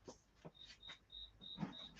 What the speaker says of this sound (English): And Mike, can you hear the cricket? It's back again.